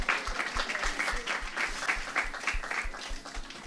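Audience at a press conference with a singer breaks into warm applause, a dense patter of many hands clapping at a fairly steady pace, moderately loud and continuous throughout.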